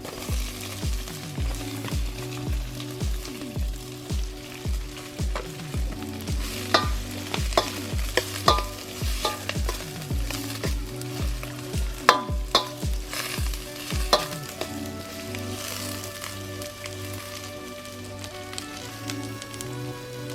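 Sliced onions and green chilies with salt sizzle in a pan while a spoon stirs them in quick, regular scraping strokes for most of the time, then the frying settles into a steadier, softer sizzle with no talking.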